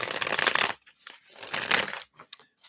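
A deck of tarot-style cards being shuffled by hand in two close, crisp riffling bursts with a brief pause between, followed by a few soft card taps.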